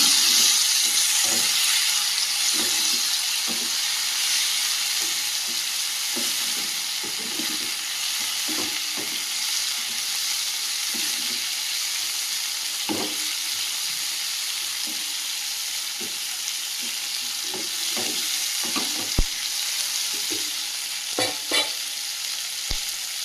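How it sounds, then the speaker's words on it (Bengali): Prawns frying in a hot pan give a loud continuous sizzle and hiss, broken by scattered stirring scrapes and spatula knocks that grow busier toward the end, close by with no speech. "চিংড়ি মাছগুলো দিয়ে দেবো দিয়ে ভালো করে একটু ভেজে নেবো"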